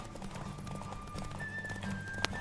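Roach, a horse in The Witcher 3, gallops in a race with a steady rapid clip-clop of hooves at moderate volume, ending in a short sharp bright tone near the finish.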